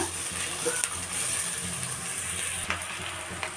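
Onions and capsicum frying in a pan for a chicken liver dish, a soft, steady sizzle with occasional light scrapes and clicks of stirring, fairly quiet and continuous.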